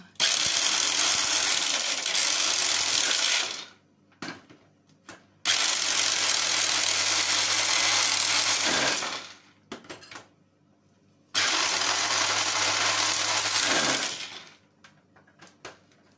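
Food processor chopping onions into small pieces for onion powder, running in three loud, steady bursts of a few seconds each, separated by brief quiet pauses with faint clatter.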